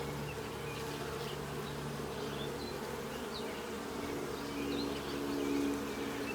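Honey bees buzzing steadily in an open beehive during a June inspection, a dense low hum that stays constant throughout, close up with no talking.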